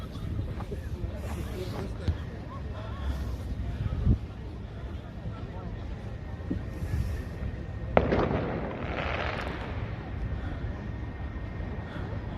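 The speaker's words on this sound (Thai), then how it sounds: "การจุดพลุก็จะมีจุดกันเองครับ ประชาชนกดจุดกันเองครับ" Fireworks set off by residents on New Year's Eve in Helsinki during lockdown crackle and thud at a distance, scattered irregular bangs with one sharper burst near the middle, under a voice talking.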